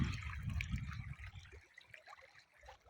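Water flows and trickles at a fishpond, a steady burbling stream close by that thins to lighter gurgles and drips toward the end.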